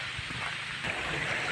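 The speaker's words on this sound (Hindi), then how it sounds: "इसका आवाज़ सुन के बहुत अच्छा लगता है ना, वो वाटरफॉल का आवाज़, जो पानी गिरने का" Waterfall in a forest wildlife sanctuary, water falling in a steady broadband rush that sounds moderately distant and continuous, with no voices over it.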